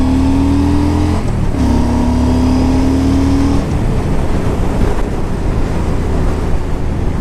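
A 2009 Yamaha V Star 1300 cruiser motorcycle rides along with a loud, continuous engine drone, a steady pitch that shifts briefly before settling into a rough, even roar with wind noise.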